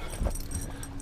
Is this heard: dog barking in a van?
yes